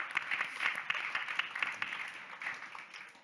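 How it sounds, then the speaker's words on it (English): Light applause from a conference audience for guests at an energy security partnership panel, a soft steady patter of clapping heard at a distance, fairly faint. "A round of applause to the guests here"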